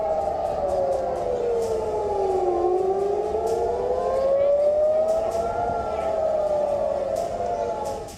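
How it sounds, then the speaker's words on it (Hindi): A wartime air-raid siren wails in Israel, its tone slowly sliding down and back up in long sweeping cycles, sustained and fairly distant, with no one speaking. "हमले के ठीक बाद इजराइल में युद्ध का सायरन बजने लगा।"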